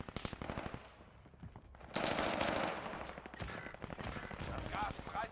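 Machine gun fire in a Call of Duty match echoes from the Caldera mine zones, sustained rattling bursts that thicken partway through, with players talking over the shooting.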